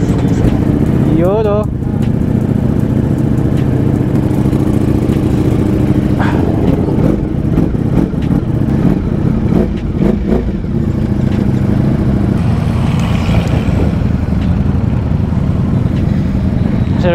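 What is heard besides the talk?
Ducati Streetfighter V4 motorcycle engine warming up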